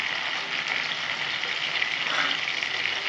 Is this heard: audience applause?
no